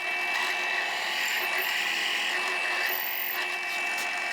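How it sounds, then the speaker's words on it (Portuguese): A cordless drill/driver bores holes while building a jig for Minifix cam fasteners, giving a steady, close whir with a slight wobble in pitch across the whole stretch and no talk over it. "eu resolvi terminar essa furação aqui na parafusadeira"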